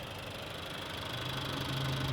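A 1.5-liter, 130-horsepower direct-injection i-VTEC engine in a 2017 Honda Fit EX idles steadily with a low, even hum, heard up close and alone with no talking.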